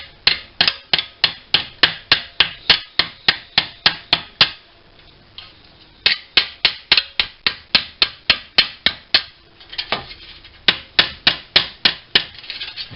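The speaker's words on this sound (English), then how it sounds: "I'm going to use the bodywork hammer to just tap those pieces" Bodywork hammer tapping small metal pieces of a Wilesco steam engine against a rubber cutting mat: crisp, evenly spaced light strikes in quick bursts, pausing briefly between runs, close and distinct with no talk.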